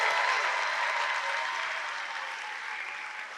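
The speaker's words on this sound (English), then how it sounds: "please give us one more round of applause for these student developers" A large keynote crowd applauds student developers. The clapping is a broad, even wash that fades slightly toward the end and carries no distinct individual claps or voices.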